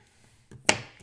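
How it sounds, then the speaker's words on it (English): A single crisp snip of paper being cut in half with small craft snips, a sharp close click preceded by faint handling noises and followed by a soft rustle. "So grab your snips, you just snip them like this."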